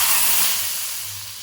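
Mustard seeds, tempering spices and garlic crackle and sizzle in hot oil for a moong dal rasam, a steady loud hiss close by that slowly fades, with no talking.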